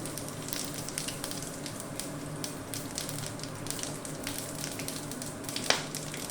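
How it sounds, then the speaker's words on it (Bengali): Whole tempering spices hit hot oil in a pan, a soft, steady sizzle with crackling pops and one sharper spit near the end. "ফোড়ন হিসেবে যেগুলো রেখেছিলাম সেটা দিয়ে দিলাম"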